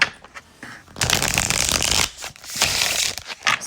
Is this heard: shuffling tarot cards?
yes